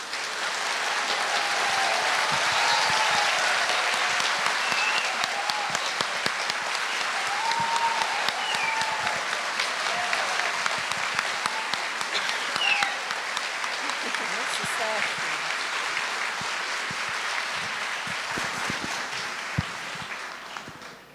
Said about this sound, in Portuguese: Eu ia pedir uma salva de palmas, que bom que não foi preciso.